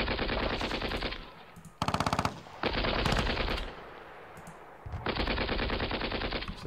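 Machine gun fire in the wargame Panzer Battles Kursk: loud, rapid bursts of automatic shots in several long volleys separated by short pauses, including one sharper rattling burst.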